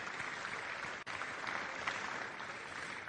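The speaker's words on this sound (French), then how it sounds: "On va vous applaudir" A crowd at an awards opening ceremony applauds steadily, a dense even patter of clapping from many hands, moderately loud throughout.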